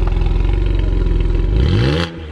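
A BMW 135i with the N54 engine, cat-less downpipes and a muffler delete revs hard with a loud, raspy exhaust. The sound holds steady and then drops sharply as the revs fall near the end.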